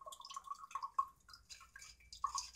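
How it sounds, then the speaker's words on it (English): Cocktail liquid dripping from a shaker into a glass while an aquavit drink is made, a quick run of small, close, bright drips at an uneven rhythm, fairly quiet, with no talk over them. "Drip, drip, drip."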